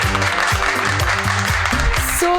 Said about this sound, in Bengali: একটা এসএফএক্স হাততালি